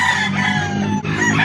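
A rooster crows loudly and close by at a chicken market in Calauan, Laguna, one drawn-out call with a brief break, backed by faint clucking and market ambience.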